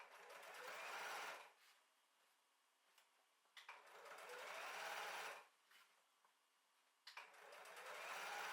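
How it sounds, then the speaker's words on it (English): Domestic sewing machine stitching along the top edge of a fabric drawstring bag, three close, steady whirring bursts separated by short pauses and faint clicks. "use the edge of your standard sewing foot as a guide by keeping it in line with the top edge of the bag as you sew"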